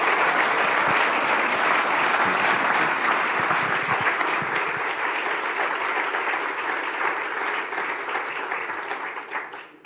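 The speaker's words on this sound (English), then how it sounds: "can we give a big round of applause to the other 9 who have done a superb job?" A large audience at an ECB forum applauds young economists, a dense, steady wash of clapping that holds strong for most of the stretch before thinning out near the end.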